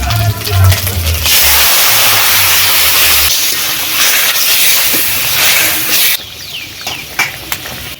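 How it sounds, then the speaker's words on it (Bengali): Hot oil sizzles loudly as cumin and onion paste go into the pan for a tempering, part of a summer snakehead fish curry; a steady broad hiss that thins out near the end. "এবারে দিচ্ছি জিরে এবং পেঁয়াজ বাটা এবারে ছোঁক দেব"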